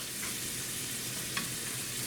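Armadillo meat fries in a pan with a continuous close crackling sizzle and a couple of faint pops, no voices.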